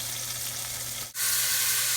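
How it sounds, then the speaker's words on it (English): A beef roast sizzles loudly in a hot pan, a continuous hiss that briefly dips and then surges back stronger and brighter. "You hear it sizzling like that, you've got it hot enough."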